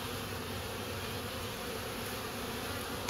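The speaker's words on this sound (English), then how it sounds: "all these other bees are coming and going and climbing all over them" Swarm of bees buzzing steadily around a hive as workers come and go and crawl over one another, a dense, continuous drone close to the listener with no talking.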